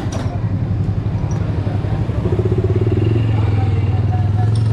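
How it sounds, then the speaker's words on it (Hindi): A motorbike on a city street in Multan, Pakistan, runs close by with a steady throbbing engine rumble that grows louder and smoother partway through, amid light background street noise. "बाइक स्टार्ट कर ली है"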